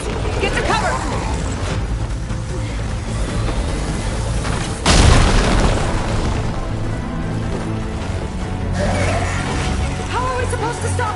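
A hostile machine in Horizon Forbidden West's Burning Shores fires explosive shots: a loud, heavy blast lands midway through a continuous rumbling, mechanical game soundscape with layered effects.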